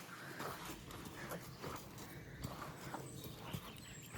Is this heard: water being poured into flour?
no